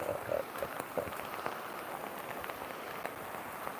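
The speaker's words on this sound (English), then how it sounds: "As you can see, it does rain sometimes here." Rain patters softly and steadily in a game with visible water effects on the lens, a faint even hiss with scattered drop ticks and no talking.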